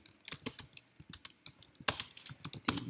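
Quick, uneven keystrokes on a computer keyboard, close and fairly quiet, with bursts of clicks and a few louder taps during a coding lecture.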